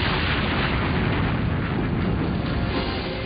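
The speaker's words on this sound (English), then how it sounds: "1 million pounds of TNT are detonated to simulate the blast of an atomic bomb" A Cold War naval test detonates one million pounds of TNT near anchored ships to simulate an atomic blast, heard as a sustained, dense roaring rumble filling the whole stretch at loud, even level.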